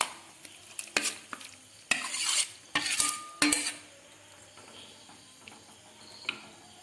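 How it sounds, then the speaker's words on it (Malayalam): Several clinking knocks and a soft scrape of yellowfin tuna pieces dropped into a pot of boiling curry, with a faint bubbling simmer underneath and quiet gaps between. "ഇനി മീൻ ചേർത്ത് തിളപ്പിക്കുവാൻ പോവുകയാണ്"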